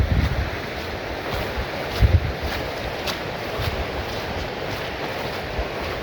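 A river flows steadily beside a Scottish winter wild camp while wind buffets the microphone, making a constant loud rushing wash with a few gusty thumps.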